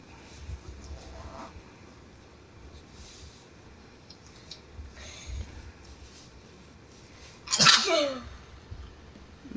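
A single sharp, loud sneeze bursts out near the end of a quiet indoor stretch, close to the listener, after some faint background shuffling.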